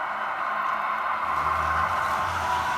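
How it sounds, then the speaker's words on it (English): A Tsunami2 decoder in an InterMountain Tier 4 model locomotive produces a high whining dynamic brake sound over a steady diesel drone, with low rumbling tones swelling as braking kicks in. "You hear that high dynamic brake, and now the braking is kicking in."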